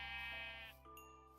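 A sheep bleats in Minecraft (FTB Infinity modpack), a single loud wavering baa lasting most of the moment before it tails off, with no talking over it.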